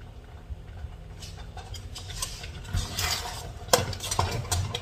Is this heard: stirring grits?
yes